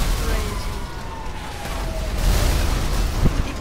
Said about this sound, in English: There's so many explosions, the sound is so delayed.